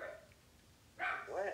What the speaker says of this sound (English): I know my dogs won't shut up.